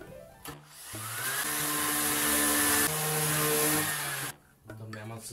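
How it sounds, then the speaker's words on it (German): A close electric sander whirs steadily on the wood of a homemade table saw crosscut sled, a loud sustained motor drone lasting several seconds before cutting off, with brief talk before and after. "Dauert mir einfach zu lang, nehmen wir immer noch den Schleifer."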